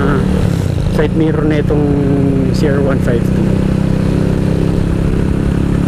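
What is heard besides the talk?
Honda CR152 motorcycle with BR battle pipe exhaust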